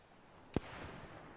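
A frag grenade explodes in Arma 3, a single sharp distant boom that fades into a short low rumble against quiet background noise.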